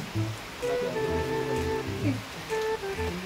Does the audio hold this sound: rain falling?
yes